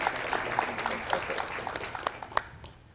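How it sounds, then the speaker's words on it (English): Audience applauding graduating students at a School of International Studies hooding ceremony, moderate clapping from a hall crowd with a few sharper individual claps standing out, tapering off toward the end. "Let's have a round of applause for them."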